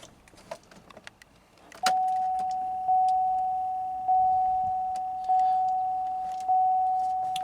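GM car being started: keys jingle briefly, then a dashboard warning chime rings in a steady repeating pattern, about five evenly spaced tones, over a quiet interior.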